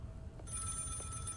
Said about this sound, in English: And that goddamn phone. Don't they have answering machines?